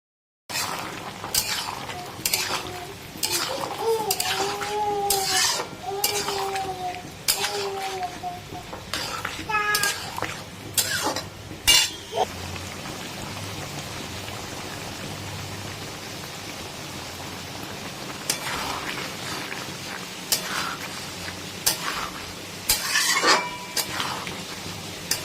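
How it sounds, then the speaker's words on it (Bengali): Fried okra is stirred into a boiling curry in a pan, with a utensil clattering and scraping in repeated bursts, pauses between them and a low bubbling underneath. "এই সময়তে মিশিয়ে দেব ভেজে রাখা ঢেঁড়সগুলো, দিয়ে এটাকে এর সাথে ভালো করে মিক্স করতে হবে"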